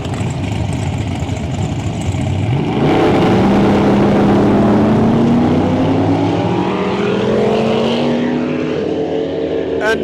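Drag racing cars launching down the strip at Santa Pod, a rising engine roar that swells loudly mid-way and stays heavy as the revs climb, with crowd and announcer-type talk faintly underneath.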